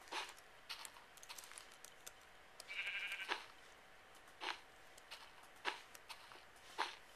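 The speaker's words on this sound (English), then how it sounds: "oh, there's a sheep" A sheep in the video game Minecraft gives a short bleat amid faint, regular clicking like keyboard taps, all quiet and close.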